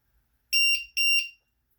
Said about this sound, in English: you'll notice a sequence of loud beeps similar to that of when the battery voltage is low